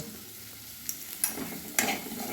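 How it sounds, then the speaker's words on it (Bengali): Asafoetida sizzles in hot oil while being stirred for a Bengali pumpkin dish, giving a soft steady crackle under a few scraping stirs, faint and close. "এই সময়ে আমি একটু হিং দিয়ে দিব"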